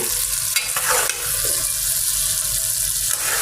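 Okra and mixed vegetables cooking in a pan with mustard sizzle and fry steadily up close while a utensil stirs and scrapes through them in a few clattering strokes, with no talking.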